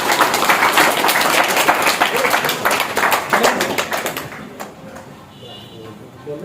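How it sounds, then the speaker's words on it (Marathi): Dense audience applause fills a school function in Koregaon, loud and continuous for about four seconds before thinning into scattered claps and fading out. "त्यांच्यासाठी जोरदार टाळ्या वाजवा."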